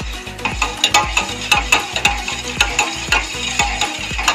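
A spoon stirs milk and condensed milk in a pan for a milk chocolate dessert, producing a regular series of close scraping strokes roughly every half second, with no talking.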